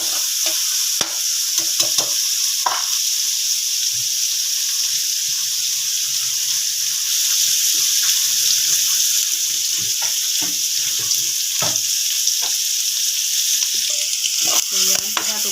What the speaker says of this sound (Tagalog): mag-igisa natin yung sibuyas at bawang